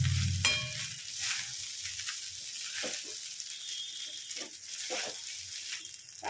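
Fried rice is stirred in a pan, with scattered scraping strokes over a continuous hissing sizzle, close by and fairly quiet, after a brief clunk at the start.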